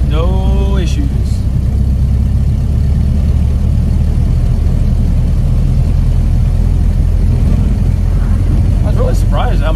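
A 1930 Model A truck engine runs steadily in high gear at low road speed, a loud continuous low rumble close by, with faint rising tones at the start and end.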